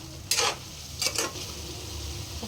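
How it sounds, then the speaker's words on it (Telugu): Chicken pieces with drumsticks and curry leaves fry in a hot pan, with a steady sizzle under several sharp bursts of stirring and scraping against the metal. "మనకి మాంసంలో వచ్చిన నీళ్ళన్నీ కూడా ముక్కకు పట్టే వరకు కూడా మనం ఫ్రై చేసుకోవాలండి ఇట్లాగ"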